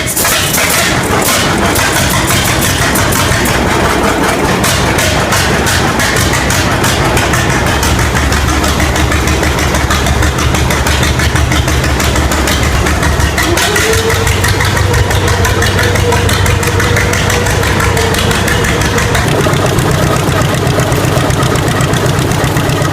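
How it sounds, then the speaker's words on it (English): A 1920s John Deere D two-cylinder tractor engine starting up and idling, a loud continuous rough chugging with a steady low beat, sustained close and unbroken throughout. "This 1920s tractor icon kicks off the year with a smoky startup."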